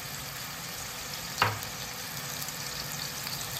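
Spices and red chili powder sizzle with finely chopped tomato in a pan for a Sindhi vegetable dish, a steady close frying hiss with one brief clatter of stirring partway through.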